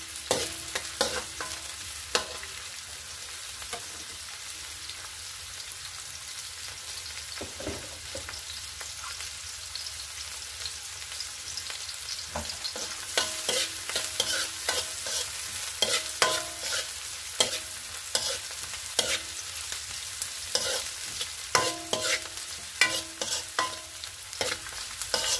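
Garlic sizzles steadily in a hot pan while a utensil stirs and scrapes it in irregular strokes, the frying hiss constant and close, with no voices.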